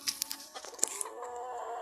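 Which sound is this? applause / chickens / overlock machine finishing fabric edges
chickens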